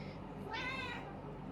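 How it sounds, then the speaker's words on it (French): A house cat gives a single drawn-out meow at close range, clear and fairly soft against a quiet indoor background. "Intermède chat"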